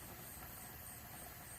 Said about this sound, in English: Yeah, there is steam coming out now. So we're building pressure.